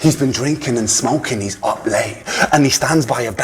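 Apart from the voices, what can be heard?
No everyday noise stands out behind the speech.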